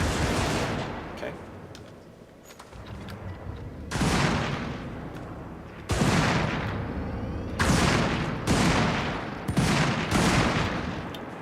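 The Dum Dum weapon in a video game fires in loud, heavy bursts, several separate volleys with short gaps between them, while someone talks intermittently.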